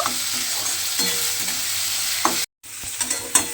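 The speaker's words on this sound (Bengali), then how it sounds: "এবারে আলুগুলো তেলের মধ্যে একটু ভেজে নেব।" Small-cut potatoes fry in oil in a pan, giving a steady close sizzle with occasional stirring clinks. It drops out briefly, then resumes with louder scrapes.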